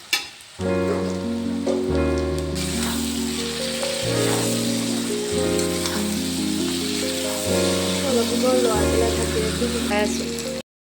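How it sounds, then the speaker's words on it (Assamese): Marinated meat frying with browned onions and turmeric in a pan, a steady sizzle running under loud background music for the whole stretch. "এতিয়া অকণমান লৰাই পেলাই মাংসখিনি দি অলপ সময়ৰ কাৰণে ভাজি ৰাখিম"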